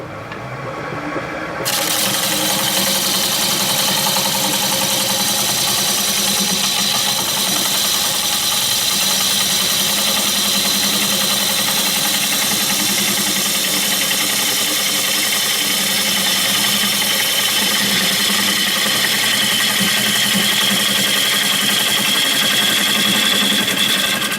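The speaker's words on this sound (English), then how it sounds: "I will go and take it where the lathe is not stalling and I'm making comfortable cuts" A wood lathe tool cuts into spinning end grain with a continuous, loud, close rasping scrape over a steady motor drone, sustained without pause.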